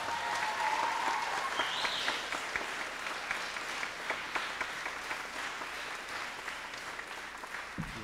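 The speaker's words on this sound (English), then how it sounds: "So can we please get a round of applause for Miss Tara Skalma?" An audience at a high school spring concert applauds, with steady, dense clapping from a crowd in a hall and brief faint tones early on.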